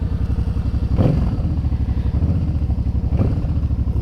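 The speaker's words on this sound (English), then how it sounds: "Let's start her up." A low-priced Harley-Davidson motorcycle engine fires up and settles into a loud, close, lumpy idle with a steady, rapid thumping pulse.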